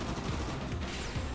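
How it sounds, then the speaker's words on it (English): Sustained gunfire from the fighting game Tekken 6, heard as a dense, faint rattle of bursts with no talk over it. "A lot of gunfire happening!"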